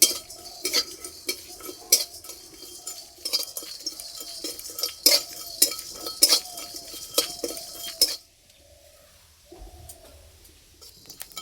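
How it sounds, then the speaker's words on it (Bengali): Whole spices (fennel, cumin, coriander, dried chilli, cardamom and black pepper) dry-roasting in a pan, with rapid scraping, rattling and clinking as they are stirred, ending abruptly into near silence with faint sounds. "এই যে মশলাগুলো ফুটতে লেগেছে, খুব সুন্দর একটা গন্ধ বেরিয়েছে।"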